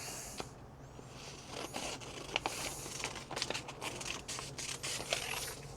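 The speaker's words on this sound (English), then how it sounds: "Grab my scissors, start cutting away." Crisp scissor snips cut through a printed paper shipping label in a quick irregular series, with rustling and scraping of the sheet between cuts, close by.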